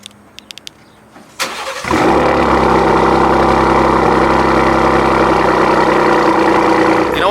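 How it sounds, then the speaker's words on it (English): A few faint clicks, then a 2019 Ford Raptor pickup with stock downpipes, catalytic converters and a Borla S-type exhaust cold-starts, roaring to life and settling into a loud, steady, rumbling idle with deep exhaust tone. "this is a cold start with the stock downpipes back on with the catalytic converters"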